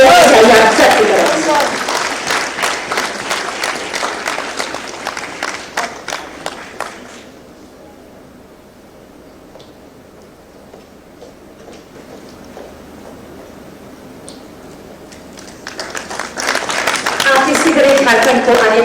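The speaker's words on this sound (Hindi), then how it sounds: "जोरदार तालियां होती रहनी चाहिए आप सबकी तरफ" Audience applause at a Jharkhand government ceremony where guests are honoured: dense, loud clapping fills the opening seconds, drops to a quiet murmur, then swells again strongly at the end.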